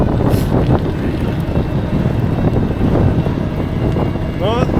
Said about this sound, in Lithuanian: vėjukas žiūriu, kyla kuo toliau, tuo didesnis jisai